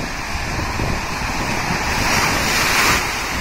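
Strong wind and stormy waves on the Ob Sea in Siberia form a steady, loud broadband roar, with wind buffeting the microphone and no talk.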